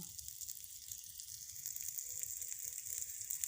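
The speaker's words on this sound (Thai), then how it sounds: "คั่วพริกหอมกระเทียมก่อน คั่วให้หอม" Chili, shallots and garlic dry-roasting in a pan give a steady, close hiss with light crackle, continuous and alone for a few seconds.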